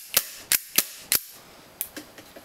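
A Tokyo Marui G17 Glock airsoft pistol fires four crisp, sharp snapping shots at an even pace, close and loud, then three fainter, softer pops follow.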